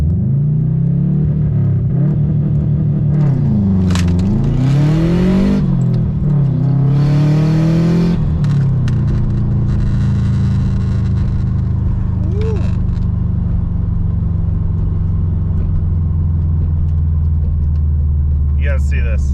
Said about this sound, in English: I think I might just do a quick little launch right now.